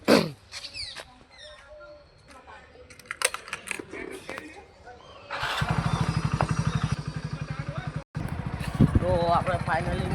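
A new motorcycle's engine runs with a steady throbbing idle during the second half, preceded by clicks and handling noises, with talking present.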